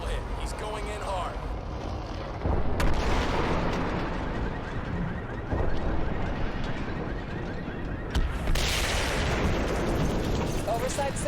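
A missile strike explodes in the video game Crysis 2 with heavy, booming blasts and rumbling debris, including a sharp impact burst near the end, layered under the game's loud combat soundscape.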